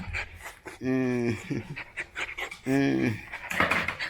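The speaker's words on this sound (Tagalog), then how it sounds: "So, dito, ang aso ko, ang lalaki, oh." A dog pants in two quick bursts, rapid breathy huffs close by, separated by short pauses and softer rustling.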